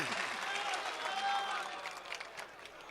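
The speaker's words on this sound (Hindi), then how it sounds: "जवाब नहीं है अश्क साहब, तालियां बजा दीजिए।" Audience applause at a mushaira poetry recital in Ahmedabad, a dense, steady patter of many hands clapping through the hall, fading slightly toward the end.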